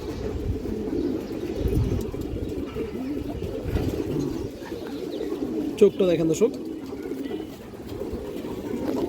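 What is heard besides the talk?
pigeons cooing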